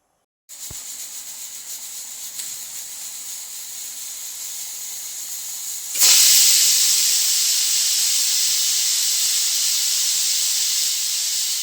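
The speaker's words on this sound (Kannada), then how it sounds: "ಒಂದು ವಿಷಲ್ ಕೂಗಿದೆ ಸಾಕು." A pressure cooker whistle on a stove while cooking coconut rice bath, first a steady loud hiss of escaping steam, then a sudden louder, harsher rush of steam that keeps going until the end.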